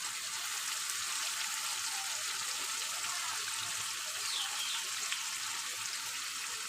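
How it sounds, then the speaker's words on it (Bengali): A ground paste of onion, garlic, ginger, cumin and tomato sautés in a pan for egg curry, making a soft, continuous sizzling hiss that stays faint and even throughout, with no talking. "এবার আমি ভালো করে কষিয়ে নেব।"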